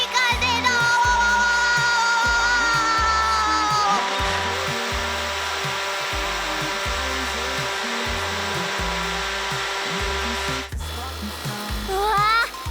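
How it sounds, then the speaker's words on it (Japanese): A large fire-fighting smoke and gas blower runs with a loud, steady rushing roar of air, over a pulsing rhythmic low beat that continues throughout. "これは大型ブロワーといって、煙やガスなどを素早く外に出す装備で火災現場に欠かせないものなの。"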